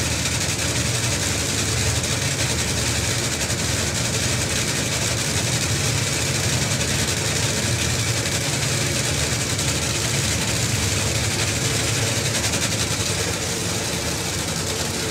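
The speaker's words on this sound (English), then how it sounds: "going to spin it over, pull the wires, which engages the mags, and the next sound you hear is" A Top Fuel dragster engine runs at a drag racing event, a loud, dense, continuous roar with harsh crackling texture that holds steady close by for the whole stretch.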